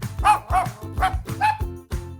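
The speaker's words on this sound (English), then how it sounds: "D is for dog." A dog barks about five times in a steady, close, loud series of short woofs with no talking over it.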